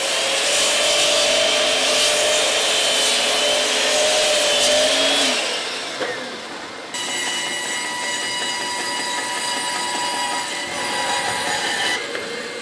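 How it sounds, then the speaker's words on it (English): Timber is cut on a miter saw, a loud, whining broadband rush, which then gives way to the steadier, humming buzz of a bandsaw running and cutting, all close by with no talking. "So onto the miter saw, let's get this cut, and then onto the bandsaw."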